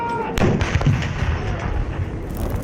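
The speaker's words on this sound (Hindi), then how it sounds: "21 तोपों की सलामी दी गई।" Ceremonial artillery booms ring out at an official 21-gun salute welcoming a state guest in Islamabad, with a sharp blast followed by rumbling echoes and outdoor crowd noise.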